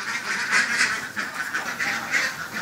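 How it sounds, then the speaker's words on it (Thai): A male Muscovy duck calls nearby, a string of soft, breathy, repeated notes over roughly two and a half seconds. "ตัวนี้เป็นเป็ดบาบารี่ตัวเพศผู้ตัวนึง"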